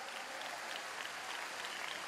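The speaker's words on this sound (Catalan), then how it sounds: "Un aplaudiment ben fort pel Martí, per la Clàudia, per tots vosaltres." Dense, steady applause from a large audience at the Special Olympics opening ceremony in Calella-Barcelona, 2014, a continuous wash of many hands clapping at a distance with no voices standing out.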